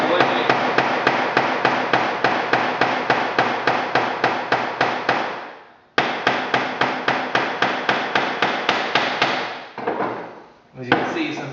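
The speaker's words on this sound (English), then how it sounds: "And then you just start hammering away." A peen hammer strikes metal in a fast, even series of sharp ringing blows while shaping rivets, with two short pauses between bursts of steady hammering.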